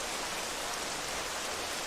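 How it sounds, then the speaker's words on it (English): Steady rain falls in the dinosaur survival game The Isle, a dense, even hiss that stays constant and fairly quiet for the whole stretch, with no voices. "Because it's raining."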